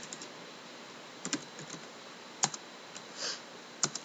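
A computer keyboard clicks sparsely as code is typed, a few separate keystrokes and short pairs spread out over faint room hiss, close and fairly quiet.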